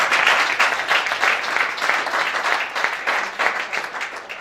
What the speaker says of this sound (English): give the students a round of applause